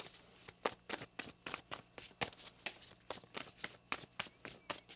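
Tarot cards being shuffled in quick, repeated riffling bursts, close and crisp, with a steady rhythm and no talking.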